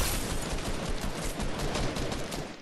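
Dense, continuous burst of automatic gunfire from Fortnite Battle Royale squads play, loud and close, sustained for nearly three seconds with no talk over it.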